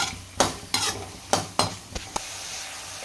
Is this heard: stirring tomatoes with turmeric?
yes